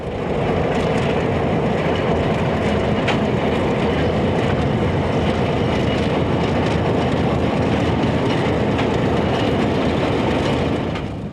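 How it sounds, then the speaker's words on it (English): A diesel freight train rumbles and clatters steadily across the Missouri River Bridge, a continuous heavy roll of wheels on track with faint rhythmic clicks, no voices. "Ride along as the train makes its way over the Missouri River Bridge"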